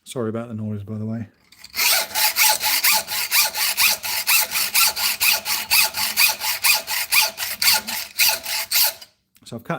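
A hacksaw cuts through a steel lockpick blank clamped low in a vise, with fast, steady back-and-forth strokes that ring bright and loud for several seconds after a brief stretch of speech.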